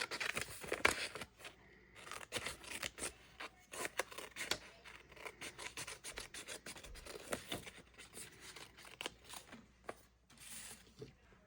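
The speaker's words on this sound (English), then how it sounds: "you're going to cut both of these together, but you're going to cut past the line" Scissors snip through two layers of paper held together for a junk journal, a quiet run of irregular rustling cuts and paper rubs close by with no talk.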